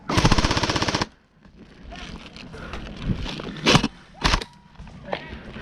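Airsoft guns fire at an outdoor airsoft site: a rapid full-auto burst up front, then quieter sporadic shots and a couple of sharp cracks, with wind noise and players' voices.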